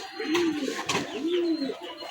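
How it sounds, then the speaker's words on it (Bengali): Two soft, rolling coos from breeding pigeons, one after another, close by over a faint background murmur. "এগুলি ব্রিডিং কবুতর"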